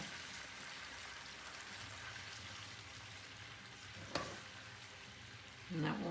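Chicken broth simmering in a cast iron pan, a steady low bubbling hiss throughout with a short clink near the end and a brief low scrape just after.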